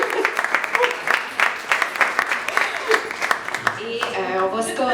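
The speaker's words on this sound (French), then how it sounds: "On l'applaudit!" An audience applauds a musician being introduced at a presentation, dense clapping with sharp individual claps, then it thins out as a voice begins speaking near the end.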